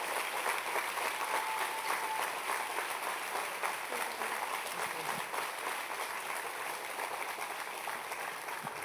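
Church congregation at a United Methodist service applauding, a fairly quiet but continuous wash of clapping hands that holds steady throughout without pause.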